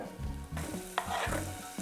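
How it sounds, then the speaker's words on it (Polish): Grated ginger and carrot fry in olive oil in a pan, giving a steady close sizzle broken by short clatters and scrapes of stirring, with a sharp clack near the end and no voices. "Następnie dodaj starty imbir i smaż przez około minutę, aż zacznie wydzielać aromat."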